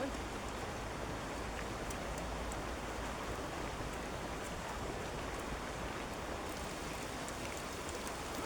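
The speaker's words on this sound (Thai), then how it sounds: "ฝนตกแล้วแม่" Steady rain falling outdoors during a meal in the countryside, a dense, even hiss of drops on surfaces, continuous and fairly close with no letup throughout.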